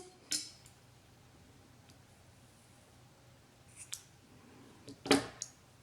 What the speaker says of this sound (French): Donc on va couper le fil.